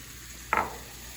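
Halved cherry tomatoes, a full pint of them, tumble into a hot pan for shakshuka, giving one brief close burst of sizzle that fades quickly into a low background hiss.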